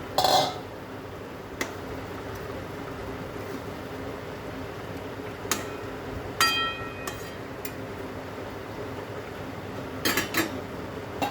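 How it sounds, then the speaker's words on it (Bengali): A lid is set on a cooking pot of simmering fish curry. A few short, sharp metallic clinks and clatters stand out over a low, steady background bubble. "এবার একটু ঢাকা দিয়ে দিলাম"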